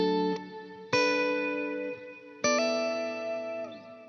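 Electric guitar chords run through a plate-style reverb pedal, each strum ringing out into a lush, long, diffused tail. Three or four strikes come in slow succession, moderately loud, with no voices.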